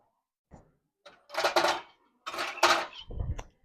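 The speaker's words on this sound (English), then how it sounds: "and then I'm going to put lids and rings. Hot lids." Hot metal lids and rings set onto glass canning jars of candied jalapeños, a few close, distinct metallic clinks and rattles in quick succession with short pauses between.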